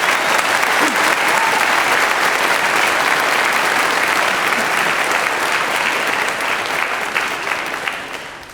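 Sustained, dense applause from a large graduation ceremony audience, steady and loud throughout before fading slightly at the end.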